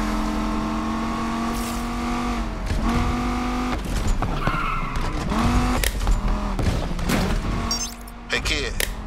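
Lamborghini Countach engine in the racing game Need for Speed Unbound, a steady loud drone with rising and falling revs, tire squeals and sharp impact-like bursts throughout, under game dialogue.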